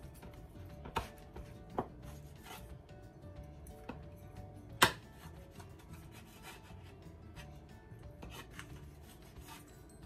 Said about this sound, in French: là je vais couper une petite part pour vous montrer un peu comment ça fait